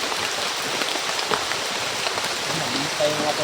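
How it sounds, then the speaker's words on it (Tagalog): Heavy rain pours steadily onto surfaces outdoors while people shelter from it, a dense continuous hiss of drops with occasional louder splashes and faint voices underneath. "Para silong muna kami kasi lakas yung ulan."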